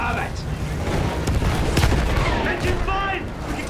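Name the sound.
field gun and gunfire in video game Battlefield 1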